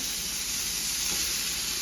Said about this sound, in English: I'm breaking it up, sizzling it.